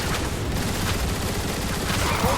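Rapid gunfire rattles continuously in the video game Transformers: War for Cybertron, a dense, loud barrage of overlapping shots with no pauses and no voices.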